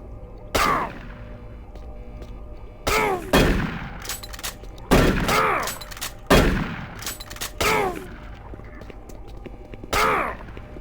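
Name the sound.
gunfire in video game Doom 3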